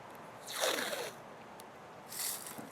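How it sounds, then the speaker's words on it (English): Tape being pulled and pressed along the sides of a guitar neck: two short, soft tearing, sticky rips about a second and a half apart, close and quiet, with faint room hush between. "I'm going to put some more tape on the sides of the neck"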